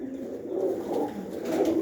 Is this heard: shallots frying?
no